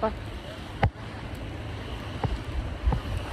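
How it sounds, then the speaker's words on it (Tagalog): Steady wind noise buffeting the microphone with a low rumble, broken by a few sharp bumps and gusts, aboard a catamaran yacht island hopping in El Nido; no talking. "ang lakas ng hangin dito"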